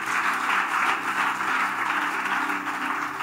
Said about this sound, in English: It's a place to clap for Jesus.